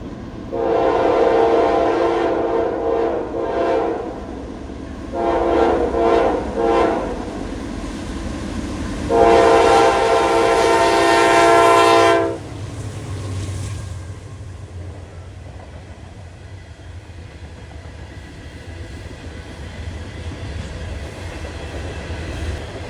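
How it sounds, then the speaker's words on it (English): A loaded Norfolk Southern coal train led by an AC44C6M locomotive, hauling full hoppers, passes close by and sounds three loud horn blasts. A heavy, steady rumble of the rolling cars continues after the horn stops. "812 is a loaded coal train that comes from Elmore, West Virginia and goes to Norfolk, Virginia."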